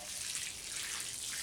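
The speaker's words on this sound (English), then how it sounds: "And we want to make sure we water everything in good." Water sprays and patters softly and steadily onto soil in a newly planted garden bed, a faint close-up hiss with no voices.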